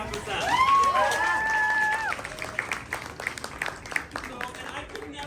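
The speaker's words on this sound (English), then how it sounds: "So I think we should give a round of applause for FSM." An audience at a talk-and-try-on class during a mermaid swimming event breaks into high whoops and cheers that give way to scattered, fading claps, with voices mixed in.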